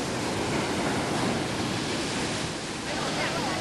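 Ocean surf rolls in steadily at Kuta beach in Bali, a dense, loud wash of breaking waves filling the whole clip with no pause.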